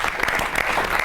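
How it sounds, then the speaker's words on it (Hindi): An audience at a Holi festival poetry show greets a poet with loud, dense applause, a steady burst of many hands clapping close by, with no voices over it. "जोरदार तालियों के साथ स्वागत करेंगे"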